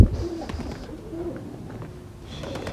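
A pigeon coos softly in a short burst near a spot where people are trying to catch a new bird. There are a few faint background noises and no clear talk.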